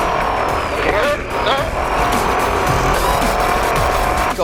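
Race car engine with a broken header running roughly, a loud close buzzing drone with wavering pitch and tire squeal sweeps, alongside faint talk.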